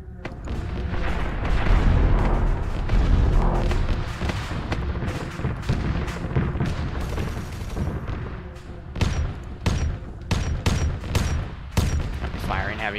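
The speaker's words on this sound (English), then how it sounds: "Firing heavy bolters back and forth" Heavy bolters fire back and forth in a Warhammer 40k Titan battle, a dense, loud fusillade of overlapping automatic shots and booming impacts with sharper bursts toward the end; a voice talks underneath at times.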